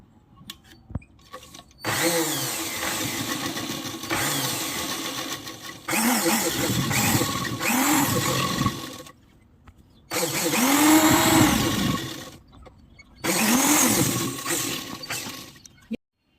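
A sewing machine stitching petticoat side seams runs in four loud, sustained bursts of whirring motor hum separated by short quiet pauses, close to the listener with no talk.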